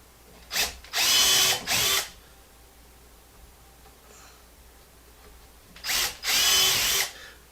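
Hercules 12-volt cordless screwdriver drilling a pilot hole into a wooden board, heard as two separate bursts of high whining motor, each a short pulse followed by a longer run, separated by a few quiet seconds.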